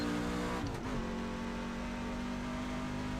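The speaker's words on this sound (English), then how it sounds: "Well, the engine sounds good." A NASCAR stock car engine in the iRacing simulator at Talladega holds a steady high drone, with a brief dip and shift in pitch before settling into a constant loud hum.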